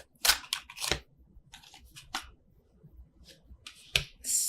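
Tarot cards are shuffled overhand close to the mic in quiet room tone, giving a few crisp riffling bursts and soft slaps spread irregularly through the clip.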